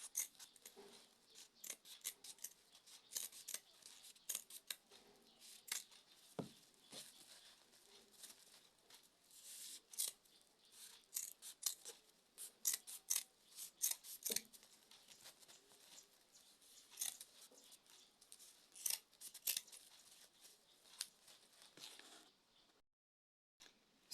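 Soft, sporadic snips of scissors trimming excess material from a hat fascinator, faint close clicks and crisp cuts scattered irregularly over a quiet background.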